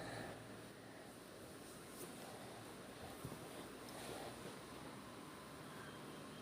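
Brinjal from a terrace garden sautéing in a pan with dried red chillies, green chillies and salt, giving a steady, continuous sizzle and hiss that holds at an even level throughout, with no voices.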